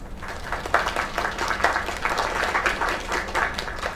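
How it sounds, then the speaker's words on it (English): Applause and clapping from a crowd in the video game Lake, a steady dense patter of many hands lasting throughout, moderately loud with no talking over it. "Another round of applause."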